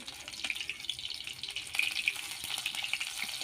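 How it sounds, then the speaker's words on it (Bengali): Cauliflower florets frying in hot oil in a home kitchen, giving a continuous close hiss and crackle with small pops, steady throughout and no voices. "এবার এক একটা ফুলকপি আমি ভেজে নেব"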